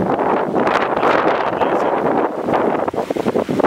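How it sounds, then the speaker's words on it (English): A loud, continuous rushing hiss of steam blowing from a geothermal steam vent at Seltún, a broad roaring noise with gusty wind buffeting the microphone and no talk over it. "You hear the blowing noise. That's the steam just blowing out of the steam vent."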